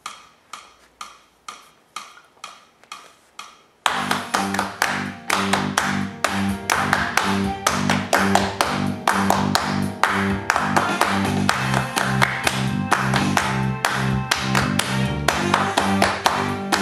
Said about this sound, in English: So now she's going to try and clap the rhythm which is marked here.